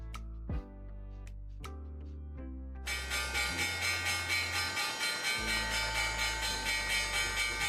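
Stock market opening bell ringing at the start of a trading session, a run of separate clanging strikes followed by a loud, sustained, rapidly pulsing ring that continues steadily to the end.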